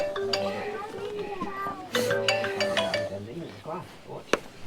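A mobile phone ringtone plays a bright, tonal repeating melody at a pop-up campsite, mixed with people and children talking nearby.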